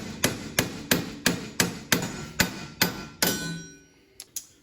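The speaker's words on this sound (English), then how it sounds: "Now we can just go ahead and tap it off." Hammer taps knocking a loosened suspension control arm free on a car, about eight evenly spaced sharp metallic blows close by, followed by a brief pause and two lighter taps, with no talking.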